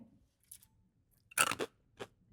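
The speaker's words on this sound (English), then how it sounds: "You hear that crunch?" Loud crunching bites into brisket nachos, a few sharp crisp bursts close up with brief pauses between, no talking.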